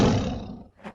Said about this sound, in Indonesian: suara eraman harimau putih yang menggelegar memecah keheningan tersebut